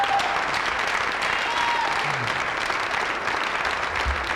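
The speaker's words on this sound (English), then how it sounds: "How about a round of applause for Mr. Tim?" A comedy-club audience claps steadily for a few seconds, a moderately loud wash of applause with faint stray voices mixed in.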